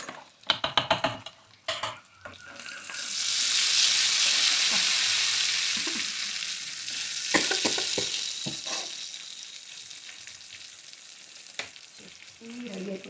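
Dried red chillies frying in a hot tempering for chutney: a few sharp clatters, then a loud hissing sizzle that swells, eases off, and flares again before fading to a quieter crackle with occasional knocks.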